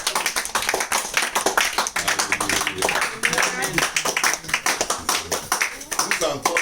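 A church congregation claps in rhythmic bursts, a steady patter of many hands close by, with a voice speaking over the applause throughout.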